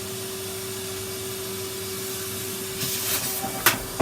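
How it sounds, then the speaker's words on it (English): A vacuum cleaner runs steadily as it cleans inside a bathroom cupboard, a constant hum with hiss, then a few brief scraping bumps and knocks toward the end as the nozzle moves around. "Let's vacuum the cupboard."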